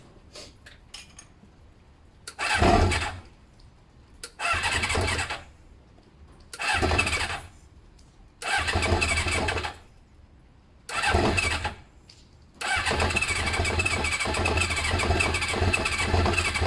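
Kawasaki ZL600 Eliminator motorcycle, a non-running barn find on its first start, cranks and fires in five short revving bursts with pauses between, then settles into a sustained loud run near the end.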